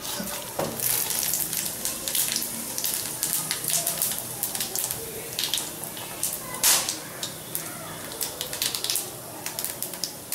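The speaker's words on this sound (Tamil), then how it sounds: "இந்த வாசனை ஜாமான்லாம் அதுக்குள்ளே போட்டுடலாம்." Whole spices and fennel frying in hot sesame oil, giving a steady close crackle and sizzle with sharp popping spits throughout and no talk.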